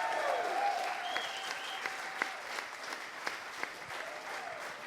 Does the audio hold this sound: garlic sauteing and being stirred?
no